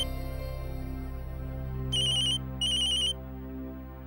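A telephone rings with an incoming call in a domestic drama scene, two short bright electronic trills in quick succession over a steady low background hum.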